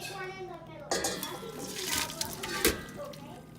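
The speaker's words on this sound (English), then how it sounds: "We're going to take that and drain it." Simmered dried fruit for a French Christmas fruit bread is drained from its water, making a short splashing pour with clinks of a pot and utensils, heard close under a faint voice.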